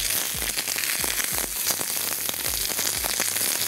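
Onions sizzle and crackle steadily on a hot grill while they are turned for an aubergine kebab, with several soft thumps and scrapes from the turning scattered through the dense frying hiss.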